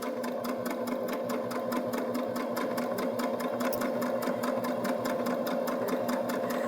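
A Baby Lock Jazz II sewing machine runs steadily through a decorative stitch, its needle chattering in a fast, even rhythm over a constant motor hum, close and unbroken without speech.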